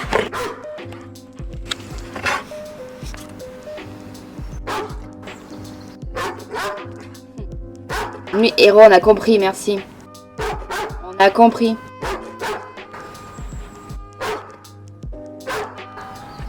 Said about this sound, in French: Mon chien il pleure dehors parce qu'il est pas rentré